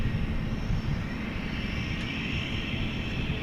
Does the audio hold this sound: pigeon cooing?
no